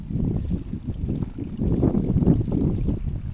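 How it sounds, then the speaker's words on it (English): Overflow from a spring-fed pool at an ancient well in Brecon trickles along a channel, a close, steady babbling and gurgling with soft rippling pulses and no talking. "The overflow from the pool, which is fed by the spring, runs along here."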